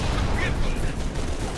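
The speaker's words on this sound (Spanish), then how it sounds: "simplemente le vamos a rafagar con la pistola de plasma y le vamos a dar su headshot" Plasma pistol fire in Halo Reach on Legendary difficulty: quick bursts of shots mixed into dense game noise, with a voice talking over the firing.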